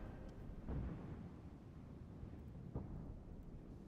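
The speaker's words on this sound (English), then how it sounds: "I am going to bring in an artillery barrage right about there." An artillery barrage in the Cold War real-time strategy game Regiments, with low, muffled booms rolling in at a distance, one heavier thud early and a sharper blast near the end over a rumbling background.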